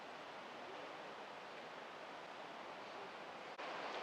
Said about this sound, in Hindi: साथ में आपको एक नदी का आवाज़, पानी का आवाज़ रहता है साथ में